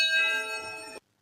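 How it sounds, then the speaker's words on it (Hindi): A temple bell in Sambalpur rings with a single bright metallic tone that holds and slowly fades for about a second before cutting off abruptly. "सुनले तो घंटीर स्वरटा बढ़िया लागसी"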